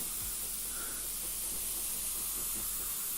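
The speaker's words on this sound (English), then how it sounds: "Just using the air from the airbrush to dry that off." An airbrush blows a steady, soft, continuous hiss of air to dry freshly sprayed paint over masking, heard alone and at close range.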